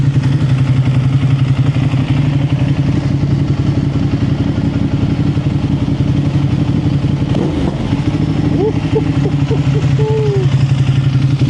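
Ducati Panigale V2 motorcycle fitted with an Akrapovic exhaust, idling steadily with a throaty low rumble and a short rev partway through, close and loud.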